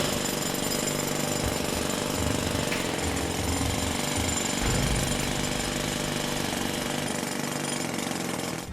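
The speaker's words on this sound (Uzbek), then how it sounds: "Perforator ishlatmoqchi kimdir?" Rotary hammer drill (perforator) runs nearby in one loud, unbroken burst of rapid pounding and grinding that lasts the whole stretch, with no voices over it.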